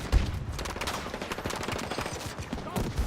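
Gunfire in a Battlefield video game fills the clip. A dense run of rapid, overlapping shots sounds like several weapons firing at once, loud and continuous for the whole stretch, with no talk.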